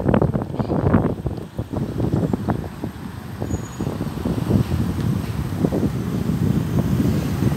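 Gusty wind buffets a microphone outdoors on a sunny day near a bridge at the Tajamar area of Carlos Paz, a steady rumbling roar with irregular bursts and no talking.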